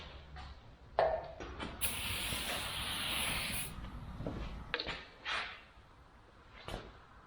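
A steady hiss of aerosol spray on a Kubota BX2822 blower during teardown maintenance runs for a couple of seconds, framed by a few short clicks and bumps nearby.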